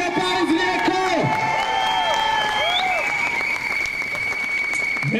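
A crowd at an anti-discrimination rally in Rijeka applauds and cheers loudly and steadily, with whoops rising over dense clapping and voices sounding through it.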